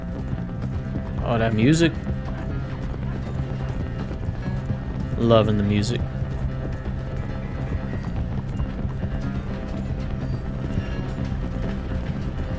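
Hoofbeats of a cheap horse galloping in the Red Dead Redemption 2 video game, a quick, rhythmic clip-clop beneath game music and a player's talk.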